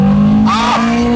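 Engine of a 1990s French hot hatch revving hard while driving, a loud, steady droning note rising in pitch as the throttle opens, close and continuous.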